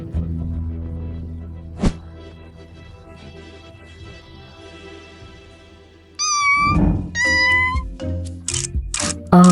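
Cartoon kittens meow in a series of high, pitch-bending cries near the end, loud and close over a low musical background, with an earlier sharp accent.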